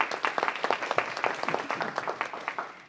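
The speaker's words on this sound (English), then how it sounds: "Let's give them a round of applause," Audience at a council meeting applauds steadily for a few seconds, a dense run of hand claps at moderate loudness with no talking over it.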